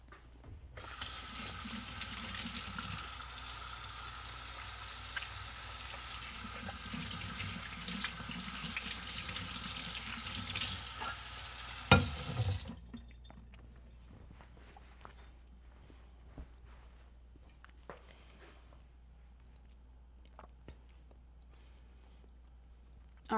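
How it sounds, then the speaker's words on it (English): A kitchen sink tap runs steadily for about twelve seconds while hands are washed, then shuts off, leaving quiet room sounds and faint movement, close by with no talking. "Let me wash my hands."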